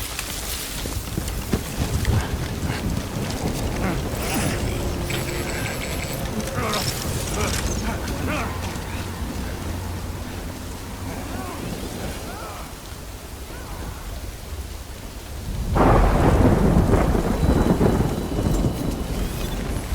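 Heavy rain and rolling thunder in the video game Death Stranding, a steady dense downpour with low rumbles throughout that swell louder near the end, with a voice speaking over it.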